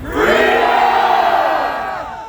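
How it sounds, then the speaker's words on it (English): A large crowd at a Freedom Convoy 2022 rally screams together at full volume in one sustained roar that swells quickly and then slowly fades. "we all screamed at the top of our lungs for what we wanted the most"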